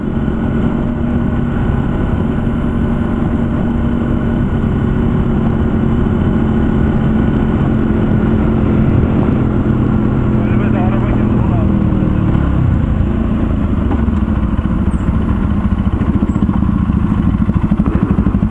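A motorcycle engine drones steadily and loudly for the whole stretch, its low rumble rattling and clattering over a rough, dusty dirt road on the way to Ağva, with a rider's voice talking over it.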